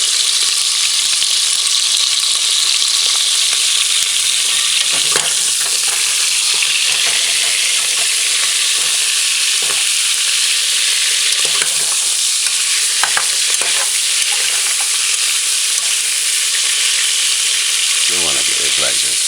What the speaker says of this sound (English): allow it to fry on one side for about a minute or two. Right now we're caramelling the pork chunks